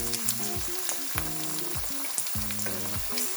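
Tomatoes and pepper fry for an egg stew, giving a loud, close, continuous sizzle in a pan, heard over low background music and with no talk.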